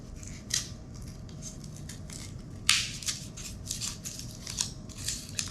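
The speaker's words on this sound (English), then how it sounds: "So I'm going to just cut out some mountains out of my corrugated cardboard." Scissors cut through corrugated cardboard into mountain shapes for a collagraph, with a few crisp snips and one sharp louder cut among quiet rustling, close and without talk.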